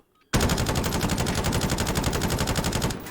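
A LAPA SMG fires in a video game, a sudden, loud sustained burst of rapid automatic shots in an even rhythm lasting nearly three seconds.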